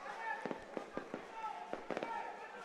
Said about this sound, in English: probably hear the fireworks going off